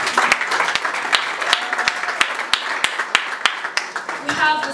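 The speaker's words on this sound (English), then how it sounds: "A hand of applause." Audience clapping at a magazine launch event, a loud, uneven patter of separate hand claps close by, with faint voices underneath and a brief swell at the end.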